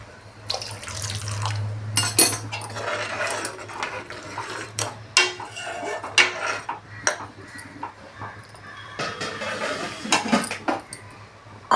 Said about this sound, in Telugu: ఇందులో వాటర్ కలిపి బబుల్స్ లేకుండా కలపాలి